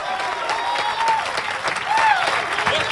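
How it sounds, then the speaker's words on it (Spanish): Church congregation applauding during an evening service, steady close clapping with cheering voices and a sung or shouted line rising over it. "yo voy a aplaudir por usted en esta noche"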